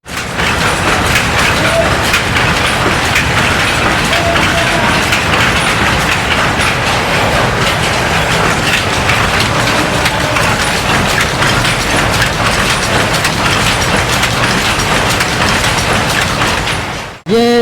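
A power loom weaving fabric in a workshop in Hyderabad, a dense, steady mechanical clatter that runs loud and continuous throughout with a fast rhythmic clacking and no talk.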